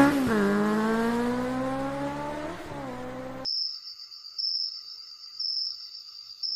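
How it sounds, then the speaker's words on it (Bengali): A cartoon motorbike races along on the way to an old bungalow: a buzzing synthetic engine tone climbs and then sags for about three seconds, then cuts abruptly to a thin, steady high whine like crickets. "এবার একটু জোরেই বাইকটা চালালো"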